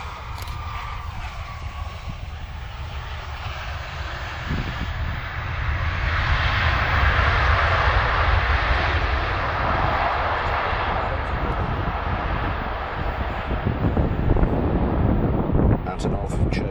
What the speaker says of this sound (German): Schubumkehr auch bei den Ivchenko-Turbinen wird gleich zum Einsatz kommen.